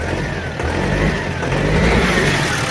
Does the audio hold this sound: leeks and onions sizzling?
no